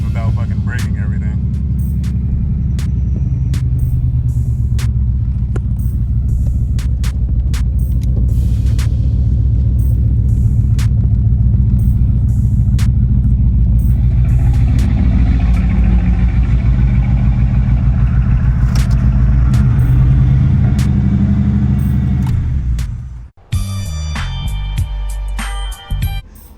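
A third-gen Camaro Z28 rumbles loudly at low speed as it drives into a garage, with a steady engine drone that cuts off abruptly near the end.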